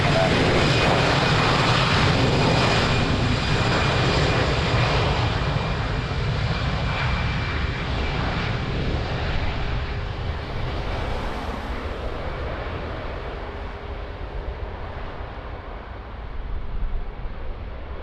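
A fixed-wing airliner roars through its takeoff at Lisbon Airport, a loud broadband engine rumble that stays strong and gradually eases as the plane climbs away, with no other sounds over it.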